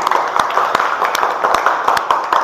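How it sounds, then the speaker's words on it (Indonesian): A classroom full of people clapping steadily for a student group, dense and loud, with a few sharper individual claps standing out. "Tepuk tangan dulu untuk kelompok 1."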